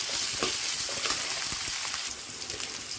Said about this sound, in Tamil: இது நல்லா பொன்னிறமாக ஆகிற வரைக்கும் வதக்கிக்கலாம்.